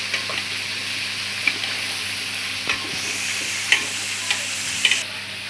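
Rice being stirred into hot oil with fried onions for pulao, a continuous close sizzle with scattered scraping clicks of the spoon against the pot.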